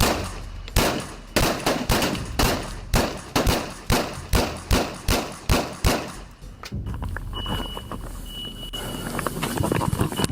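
A rapid series of sharp gunshots from police officers rings out in a rhythmic volley during a raid, then gives way to scattered, irregular bursts and rumbling noise.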